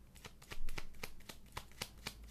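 A tarot card is drawn from the deck with a rapid, quiet patter of card edges flicking and ticking against each other, close up and faint, for about two seconds.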